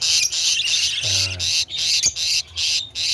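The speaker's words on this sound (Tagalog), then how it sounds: "Ayan mga kaibon." African lovebirds squawk close by in harsh, shrill bursts that follow one another rapidly, with a brief low tone in the middle and short gaps between calls.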